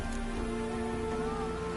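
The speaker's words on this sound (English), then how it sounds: "Looked like it would rain, and here it is." Steady rain falls in The Witcher 3, a soft, even hiss of drops under faint sustained tonal music, with no speech.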